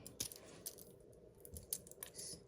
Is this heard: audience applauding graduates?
no